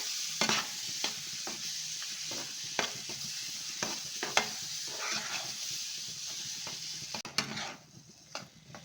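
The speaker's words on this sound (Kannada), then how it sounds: "ಫ್ರೈ ಮಾಡ್ತೀನಿ ಲೋ ಫ್ಲೇಮಲ್ಲಿ ಇಟ್ಕೊಳ್ಳಿ ಇದೆಲ್ಲ ಒಂದು ಗುಡಬೇಕು ಅಲ್ಲಿವರೆಗೆ ನಾವು ಸ್ವಲ್ಪ ಫ್ರೈ ಮಾಡೋಣ" Mango ladoo mixture frying on a low flame, with a steady soft sizzle broken by repeated scraping and stirring strokes of a spoon in the pan, fairly close and continuous.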